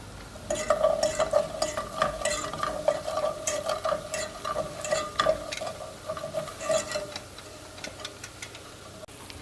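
Chicken stock is stirred into melted butter in a pan for gravy, a utensil scraping and tapping rhythmically against the pan with a light sizzle, close and without talk.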